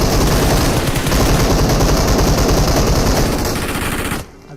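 Rapid automatic gunfire from a 2vs2 battle royale video game, a loud continuous burst of shots with booming low end that runs for about four seconds, then cuts off abruptly to near silence.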